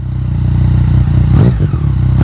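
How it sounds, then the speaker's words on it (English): A Triumph inline three-cylinder motorcycle engine runs with a loud, steady low throb, and its pitch briefly rises and wavers midway through. No voices are heard. "One of the best features of the 3-cylinder engine is its wonderful and distinctive sound."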